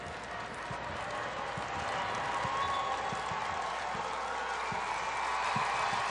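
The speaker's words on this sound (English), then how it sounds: "There's good crowd noise." A dense, steady stadium roar from the crowd at a Canada versus USA women's soccer match, the broad wash of many voices holding loud and even throughout, with faint low thumps scattered beneath.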